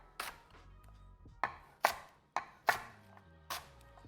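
About seven sharp knife chops land unevenly on a cutting board as a whole onion, skin still on, is roughly cut for chicken stock, each thud crisp and close in a quiet room.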